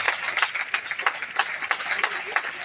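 Audience applause fills a hall at a family business gathering, a steady dense patter of many hands clapping at moderate distance, with small surges throughout and no one speaking over it.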